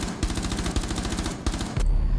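Rapid automatic gunfire bursts in Rainbow Six Siege ranked play, loud and close, in several quick strings of shots with brief gaps, ending in a heavier burst.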